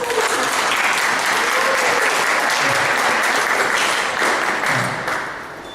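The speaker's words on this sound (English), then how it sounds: "let me reserve the applause for a young lady" Sustained applause from an audience at an event, a dense steady wash of many hands clapping at close range, loud and continuous before tapering off near the end.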